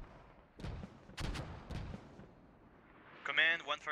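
An artillery barrage in the military game Squad sounds as a few distant booming impacts, three or four muffled blasts in quick succession, followed by a voice speaking over the radio.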